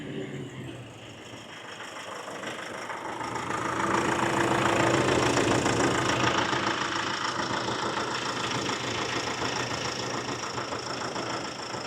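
A Nissan D40 pickup engine, running on a weak battery, starts up and settles into a steady idle that swells slightly louder after a few seconds, heard close with a continuous droning rumble.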